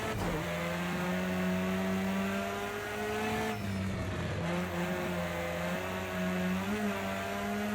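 An Audi S1 EKS RX rally car in Project Cars 2 at Bathurst roars steadily while driven sideways, its engine tone dipping sharply mid-way through a gear change before climbing again, loud and continuous throughout.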